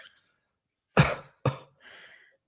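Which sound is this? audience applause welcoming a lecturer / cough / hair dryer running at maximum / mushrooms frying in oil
cough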